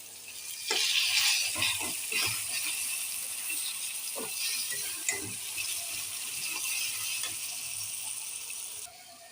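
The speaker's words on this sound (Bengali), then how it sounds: "এই তো শাকটা আমি ছেড়ে দিই।" Taro leaves fry in a pan with turmeric and chili, giving a steady bright sizzle with scattered stirring knocks and scrapes throughout, and no talking.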